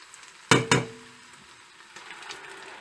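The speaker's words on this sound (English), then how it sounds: "and I'm going to fry it for about 20 minutes" Ground masala hits hot oil over fried sliced onions in a pan for a chicken curry: two sharp, loud clattering bursts followed by a low, steady sizzle, with a few faint clinks later.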